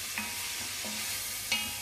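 White wine hitting a frying onion-and-vegetable garnish in a pan, a quiet steady sizzle with a few brief stirring taps.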